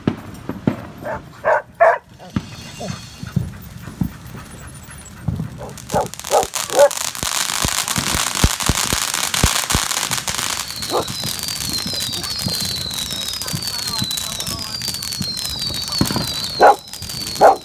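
Fireworks and rockets burst overhead on the Fourth of July in a rapid string of sharp bangs and crackles, with whistling rockets rising and a dog barking intermittently nearby.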